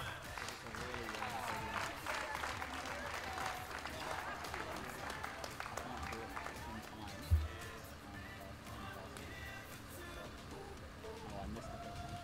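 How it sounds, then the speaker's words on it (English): A crowd at a cycling race, the Velo Grand Prix, claps for the winner. The applause is spread and steady and sits under ongoing talk from an announcer, with a brief thump partway through. "And coming first, round of applause."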